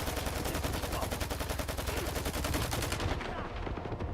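Sustained rapid automatic gunfire during a boss fight in the video game S.T.A.L.K.E.R. 2 on PS5, a loud continuous burst of evenly spaced shots that cuts off near the end.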